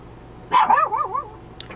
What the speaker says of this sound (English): Excuse my dog, she's barking at the horse.